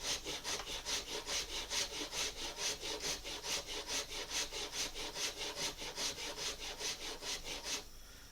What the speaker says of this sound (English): And then we can lock it in the vise. And then just start rasping that.